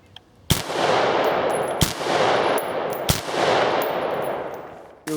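An AR-15 rifle fires Hornady V-max 55 grain rounds at close range during a barrier penetration test: three loud, sharp gunshots spaced about a second and a quarter apart, each followed by a long ringing echo.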